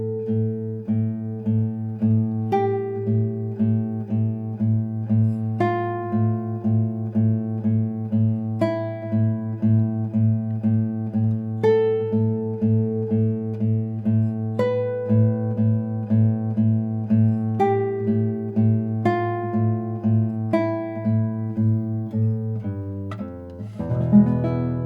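Solo Spanish guitar plays a section of Malagueña: a steady low repeated bass under a plucked melody line, close and clear, with a brief strummed flourish at the end and no voices.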